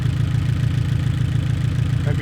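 An Abarth 500 with a misfire from a faulty spark plug idles close by. The engine gives a steady low rumble with a slightly uneven pulsing throb and holds at constant loudness throughout.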